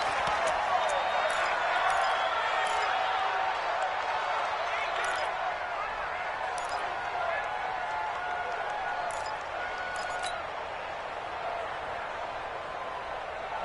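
A roaring stadium crowd at Arrowhead in a PS4 football video game swells steadily throughout a third-and-goal play, a continuous loud wash of cheering with scattered whistles and claps under game commentary.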